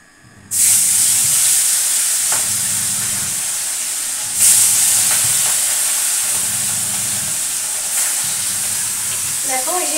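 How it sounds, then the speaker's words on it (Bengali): Fish dropped into hot oil, a sudden loud sizzling hiss bursting up near the start and surging again midway, then a sustained close crackle with a brief voice near the end. "দেখো এই যে মাছ ছেড়ে দিলাম।"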